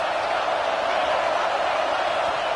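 A stadium crowd at a college football game between USC and Ohio State roars in a steady, dense wash of cheering on a third down, sustained and broad with no distinct voices standing out.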